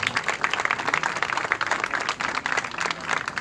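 Concert audience applauding a choir performance, a steady wash of many hands clapping at moderate loudness without a break.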